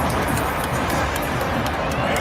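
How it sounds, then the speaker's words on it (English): A football stadium crowd at a Cowboys game booing a celebrity shown on the jumbo cam, a dense, sustained roar of many voices at a steady loud level. "And they booed her."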